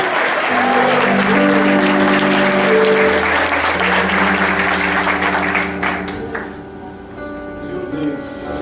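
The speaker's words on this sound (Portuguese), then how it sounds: "Quem pode aplaudir Jesus aí?" A church congregation applauds in a loud, dense wash of clapping that holds steady and then thins out toward the end, with sustained organ-like tones underneath.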